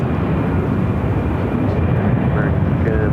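American Airlines Airbus A319 jet engine roar, a steady broad rumble close by and continuous throughout, with no change in level.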